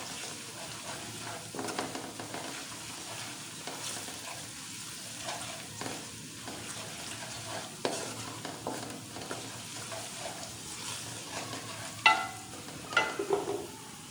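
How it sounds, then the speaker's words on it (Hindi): Red chili powder frying gently in oil over low heat, a quiet steady sizzle with occasional soft stirring scrapes and a couple of light clinks near the end. "हल्का सा हम इसको ऑयल में भून लेंगे"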